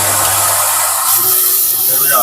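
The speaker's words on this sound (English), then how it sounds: "Let's plug in the vacuum cleaner with Henry." A Henry vacuum cleaner runs close by with a steady airy hiss and whine, while a person talks over it.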